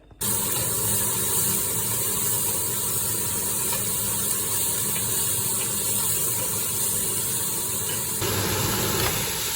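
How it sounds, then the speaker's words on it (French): Bacon and onions sizzle steadily in a hot pan, a loud, continuous frying hiss that fills the whole stretch and shifts slightly near the end. "je vais faire rissoler le lard avec les oignons"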